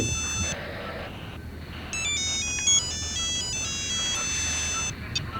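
A phone ringtone plays a repeating electronic melody in a police control room, nearby and fairly loud, with a few other short tones mixed in.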